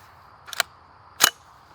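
Two sharp, fairly faint reports from a Bear Creek BC-202 .22 WMR 10-22 style magnum rifle firing Hornady Critical Defense 45 grain FTX ammunition, spaced under a second apart over a quiet outdoor background.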